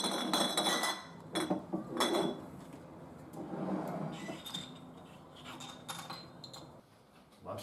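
Cutlery and dishes being laid out to set a table for a summer barbecue lunch, a series of bright clinks and clatters in irregular bursts, some close and sharp, others softer, with quiet gaps between.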